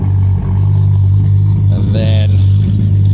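A 1970 Plymouth Satellite wagon restomod idles loud and close through a 2.5-inch mandrel-bent exhaust recessed into the bumpers, a steady deep rumble with someone talking over it.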